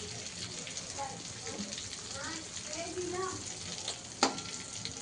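Eggplants coated in masala sizzle and fry in a pan as they are flipped, with soft stirring and scraping and one sharp clatter near the end, while someone talks over the cooking.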